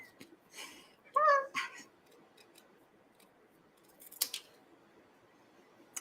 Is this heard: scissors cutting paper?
yes